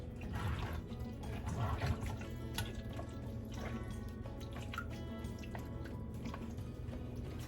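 Soursop juice drips and trickles steadily from a juicing setup, a continuous close, wet patter of drops and small splashes, fairly quiet with no talking.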